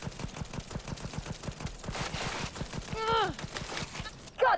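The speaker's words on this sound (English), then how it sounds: "I gotta love a smart shotgun." Smart shotgun firing in Cyberpunk 2077, a rapid rhythmic train of repeated blasts throughout, with a few brief chirping electronic tones and a sharp burst near the end; a voice mutters faintly underneath.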